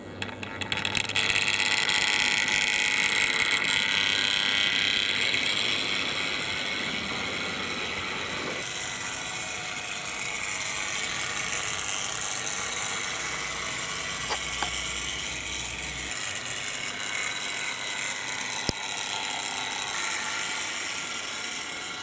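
A Hornby Flying Scotsman DCC model locomotive runs with a steady mechanical whir and gear buzz, continuous and fairly close, with small clicks and rattles along the track.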